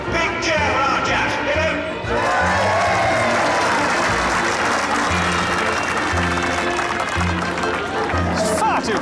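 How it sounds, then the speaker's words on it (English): A crowd at an outdoor air show cheers and claps in a sustained, dense wash of applause with shouts, with voices talking over it throughout. "Big cheer for our chaps,"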